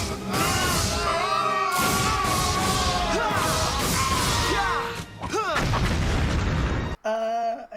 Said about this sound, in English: they really like explosions